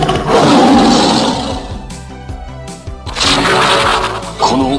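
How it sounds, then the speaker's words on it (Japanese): A Lion Senki Wonder Ride Book toy from Kamen Rider Blades plays a loud electronic lion roar effect, a harsh sustained blast that swells, dips briefly and surges again. "ライオン戦記。"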